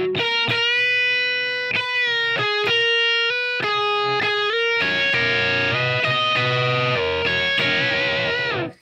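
Distorted electric guitar solo built on double stops, with short sustained bent notes giving way to a dense, wailing run; loud and close, with no voices.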